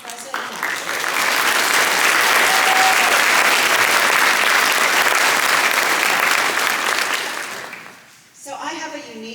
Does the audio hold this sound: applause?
yes